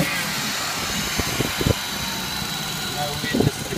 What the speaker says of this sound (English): You can hear the car just rev up nicely.